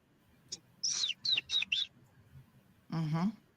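A man whistles an imitation of a bird call outdoors: a short sequence of sharp, high chirping whistles in quick bursts, followed by a lower voiced warble, close and clear against quiet background.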